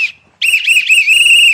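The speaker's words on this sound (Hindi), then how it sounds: "बहुत अच्छी सीटी है पीतल की" A brass ship's whistle is blown: a brief piercing note, a short pause, then a longer loud shrill blast with a fluttering warble, very close.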